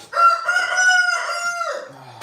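A rooster crows once, loud and close, a long strained cock-a-doodle-doo that holds steady and then trails off.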